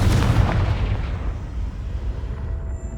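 Loud, dense explosive blasts from the Confringo fire spell in the Hogwarts Legacy game, a heavy booming burst at the start that rolls into a sustained rumbling roar fading slightly over a few seconds, with no voices.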